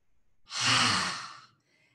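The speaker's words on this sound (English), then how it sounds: "We're gonna take 3 deep Ujjayi breaths, filling the belly." A single deep Ujjayi yoga breath, drawn slowly and steadily with a soft, airy hiss that swells and fades over about a second, close and alone in a quiet room.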